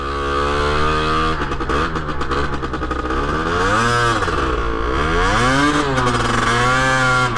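A 2023 Rieju MRT50 Trophy SM Pro motorcycle engine revs loudly and steadily, its pitch climbing and falling in repeated swells close by, with no talk.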